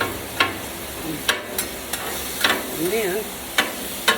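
Steak and onions fry in butter on a hot surface with a steady sizzle, punctuated by sharp, regular scraping clicks of a spatula tossing and flipping the meat, while a voice speaks briefly.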